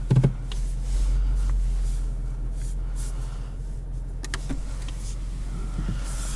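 A 2020 Ford Mustang GT's engine and exhaust in quiet mode give a steady, deep, low rumble at idle, with a few faint clicks and rustles on top.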